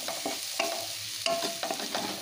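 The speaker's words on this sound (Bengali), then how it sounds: "হলুদ গুঁড়োটা মিশিয়ে নিচ্ছি, একটু কষিয়ে নেবো এবার মিনিট 2 ধরে" Onion and tomato sautéing with turmeric powder in a pan, a steady sizzle broken by repeated scraping stirs of a spatula, close and moderately loud, with no one speaking.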